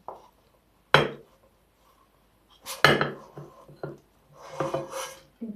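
A potato-crust pizza being worked loose and lifted out of a frying pan, with a few sharp metallic scrapes and clinks separated by pauses and a brief longer rattling scrape near the end.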